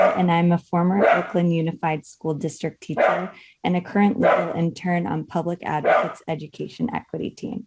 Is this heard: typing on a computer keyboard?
no